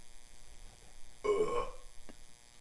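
A single short fake burp sounds after a quiet stretch, followed by a faint click, over a low background hum.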